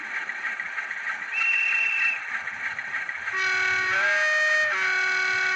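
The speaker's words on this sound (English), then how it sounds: "12 is the guard's whistle." A Graham Farish Class 47/4 DCC sound model sounds a short, clear guard's whistle over a steady locomotive hum, followed moments later by a louder, sustained two-tone horn.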